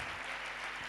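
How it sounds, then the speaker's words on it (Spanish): Church congregation applauding during a Spanish-language sermon, a steady, full wash of many hands clapping at once, loud and continuous without gaps or voices. "¿Alguien le puede dar un aplauso a Dios, por favor, en el nombre de Jesús?"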